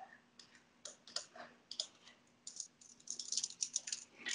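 Keyboard typing at a computer: irregular clusters of light key clicks, sparse at first and then quicker and denser toward the end, fairly faint, with no voices.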